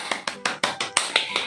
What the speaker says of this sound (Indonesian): Yuk kita tepuk tangan dulu di rumah.